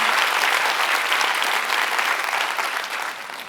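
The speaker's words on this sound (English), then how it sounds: "So can I also ask you just to show a round of applause for them?" An audience at a design forum on the future of care gives a short, lively round of applause, many hands clapping close and full before tapering off after a few seconds.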